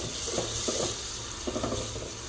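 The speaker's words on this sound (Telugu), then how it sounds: "ఆ మసాలా అంతా నూనెలోకి అయితే వేసుకొని ఎర్రగా వేయించుకోవాలి." Masala paste frying in oil in a pan for an egg pulao made with ordinary rice, giving a steady close sizzle with short bursts of stirring scrapes.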